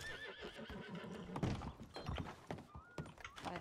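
A horse whinnies and neighs in the RedM roleplay game, with clip-clop hoof steps and a dull thunk, fairly close and clear with no talk.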